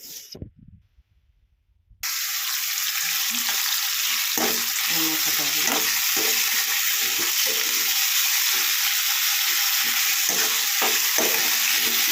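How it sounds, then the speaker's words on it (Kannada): Onions tossed with seed spices into hot oil sizzle loudly and steadily after a brief quiet start, with scattered stirring clatter and pops, no talking. "ಫ್ರೈಗೆ ಫಸ್ಟ್ ಎಣ್ಣೆ ಇಟ್ಟಿದ್ದೀನಿ ಎಣ್ಣೆ ಕಾಳು ಈರುಳ್ಳಿ ಹಾಕ್ಕೊತೀನಿ"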